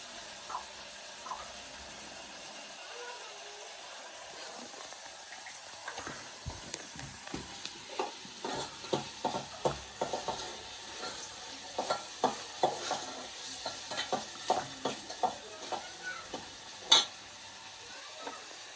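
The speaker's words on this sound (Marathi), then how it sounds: "आता आपण फोडणी दिली कांदा टॅमॅटो टाकला थोडं मीठ टाक्यात" Onion and tomato frying in a tempering on a village wood-fired stove, a faint sizzle under a series of clattering stirring scrapes that grow more frequent partway through, with no speech.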